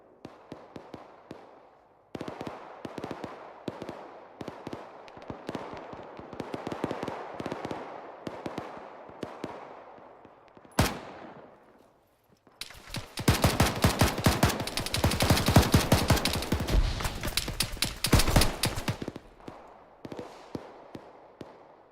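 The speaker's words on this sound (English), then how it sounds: "were you shooting grenades at Margie?" Grenades and gunfire in the military game Arma, with scattered shots giving way to a dense, loud barrage of rapid explosions and bursts that rolls for several seconds before thinning out.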